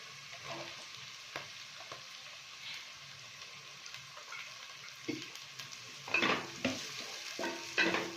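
Chicken pieces fry in a pan for a curry leaf chicken fry, giving a low steady sizzle with scattered stirring scrapes that grow louder and busier toward the end, no voices.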